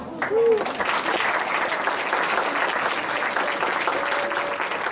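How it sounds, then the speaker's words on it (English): A crowd breaks into sustained, loud applause, clapping densely for several seconds with a few faint voices and a whistle-like tone mixed in. "another large round of applause"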